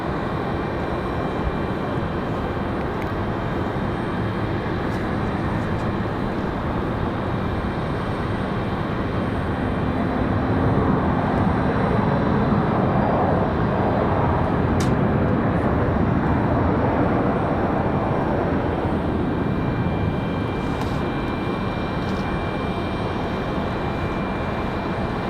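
An airplane on runway 23 right at Raleigh-Durham International Airport gives a steady, broad roar of engine noise heard from a distance, holding evenly throughout with no talking.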